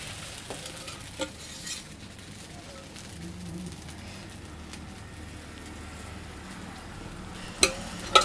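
Batter sizzles softly on a hot pan as tiffin is cooked for several people at once, a faint steady frying hiss with a few light clinks, birds cooing in the background.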